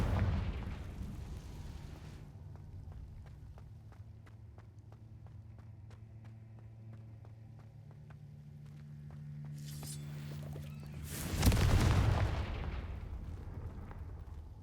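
A Confringo blasting spell erupts in Hogwarts Legacy, a loud broadband blast rising out of quieter rhythmic game sounds and a low hum, then decaying slowly.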